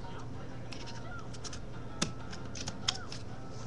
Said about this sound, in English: you're going to cut this excess off with some scissors